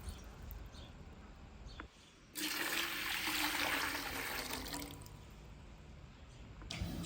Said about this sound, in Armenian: ավելացնում ենք 2 լիտր ջուր,